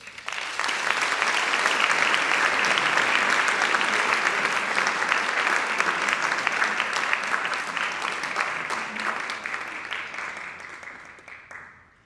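A lecture audience applauds to welcome a speaker: a full, dense round of clapping that swells quickly, holds steady for about ten seconds, then tapers off and fades out.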